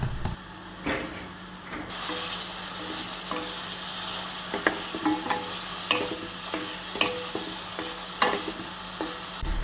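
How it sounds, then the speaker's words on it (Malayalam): Banana pieces sauté in hot ghee in a pan, giving a steady, close sizzle with occasional stirring scrapes and clicks throughout. "ഞാൻ കുറച്ച് നെയ്യ് ഒഴിച്ചു കൊടുത്തിട്ടുണ്ട് അപ്പോൾ അതൊന്ന് ചൂടായി വരുമ്പോൾ നമുക്ക് ഇതിലേക്ക് പഴക്കഷ്ണങ്ങൾ ഇട്ട് കൊടുത്തൊന്ന് വഴറ്റിയെടുക്കാം"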